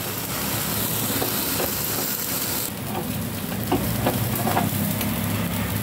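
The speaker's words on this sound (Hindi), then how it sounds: "अब मैं चिकन को स्टैंड पे रख के इसको अच्छे से भून लूँगी।" Tandoori chicken sizzling and roasting on a stand, a steady dense hiss and crackle throughout, louder and brighter in the first half before easing slightly.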